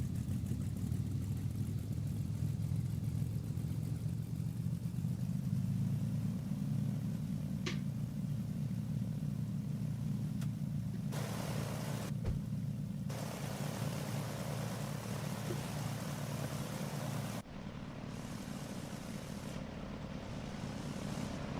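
Small single-engine L-19 propeller aircraft engine idling and warming up in Microsoft Flight Simulator 2024, a steady low drone running throughout with a brief shift near the end, no talk.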